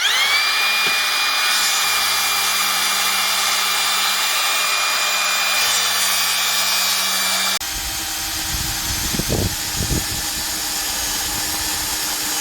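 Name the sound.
power drill drilling holes in a trailer table post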